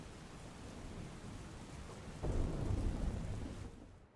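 Heavy monsoon rain pours over rural Dhoraji near Rajkot in Saurashtra, a constant hiss of downpour, and a deep, loud thunder roll breaks in midway and swells before slowly fading, with no voices.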